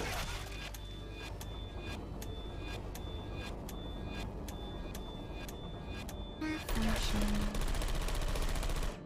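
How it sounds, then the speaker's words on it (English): Portal 2 turrets fire rapid bursts of bullets, a fast rhythmic rattle of sharp shots over steady rumbling background noise, with a mechanical whir and beeping tones near the end. "This next test involves turrets"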